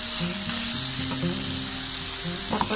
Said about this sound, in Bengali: পেঁয়াজের সাথে 2 চামচ গার্লিক, হোয়াইট গার্লিক যেটা আমি অলওয়েজ ইউজ করি সেটা, আর হচ্ছে গোলমরিচ ভালো করে সটে করে নিচ্ছি